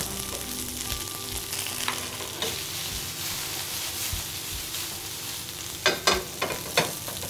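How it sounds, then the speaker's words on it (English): Steady sizzling of cauliflower browning in a pan, with a few sharper pops and scraping clicks toward the end. "You can hear that sizzling it away."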